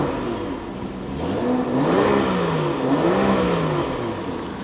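A BMW X5 xDrive35i (F15) with an N55 turbocharged inline-six, tuned to about 390 whp, revs up and down in several smooth rising and falling sweeps, loud and close, with no talking.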